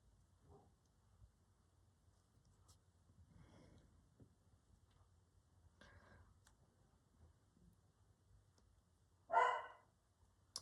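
A pet dog named Wolfie barks once, briefly and clearly, in another room, standing out near the end against an otherwise quiet room with faint scattered rustles.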